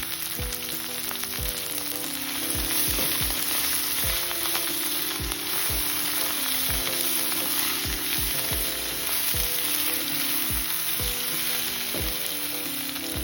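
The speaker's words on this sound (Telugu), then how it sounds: "ఒక స్పూన్ పసుపు పొడి, సరిపడినంత సాల్ట్ వేసి బెండకాయల్ని మగ్గించుకోవాలి." Chopped okra fries in a pan with turmeric and salt, sizzling steadily while a spoon scrapes and clacks against the pan in a regular rhythm, close and clear without any talk.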